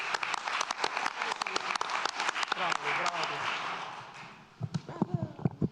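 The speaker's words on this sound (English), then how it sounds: "I'm standing and clapping for you too." Applause from people in a county board meeting room, a dense patter of claps that thins and fades toward the end, with voices talking over it and a few louder individual claps closing out the burst.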